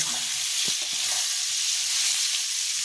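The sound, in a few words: spices sautéed with potatoes, cumin powder added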